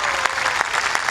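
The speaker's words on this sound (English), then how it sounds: "deserved round of applause" A brief burst of loud applause for golfer In Gee Chun after her U.S. Women's Open win at Lancaster, many hands clapping close and dense with a few sharper claps standing out.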